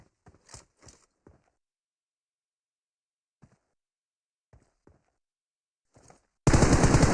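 A short burst of rapid gunfire in a competitive video game scrimmage arrives loud and sudden at the end, after a stretch of near silence broken by a few faint clicks and knocks.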